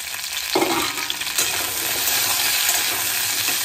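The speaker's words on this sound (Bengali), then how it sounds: "ভালো করে নেড়ে নেবে আর একটু ঢাকা দিয়ে রেখে দিচ্ছি" Taro corms and potatoes being stirred in a frying pan with oil, a continuous loud sizzle broken by a metallic utensil clink and scraping near the start, then steady frying.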